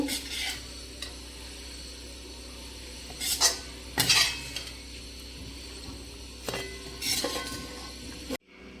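A spoon stirs and scrapes onions and coriander leaves frying in a pan over a soft, steady sizzle, with a few sharp clinks of metal against metal.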